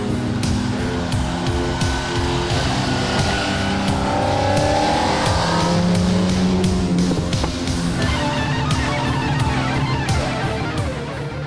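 TVR Cerbera sports car driving hard, its engine note rising and falling continuously with what sounds like tire squeal. The sound is loud and close throughout, with no talking.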